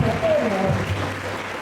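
Audience in a conference hall applauds to welcome Dr. Marco Brandão, a steady wash of clapping that runs the full length at fairly even loudness, with a faint voice tone briefly over it.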